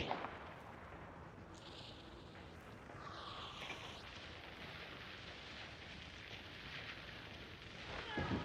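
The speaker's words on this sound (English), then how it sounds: "No, real explosion, so they're in there." Explosions in the video game Hunt: Showdown rumble as a sustained, heavy roar with a few sharper swells, all mixed into dense game ambience with no clear talk.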